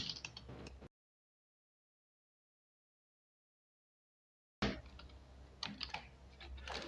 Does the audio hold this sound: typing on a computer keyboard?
yes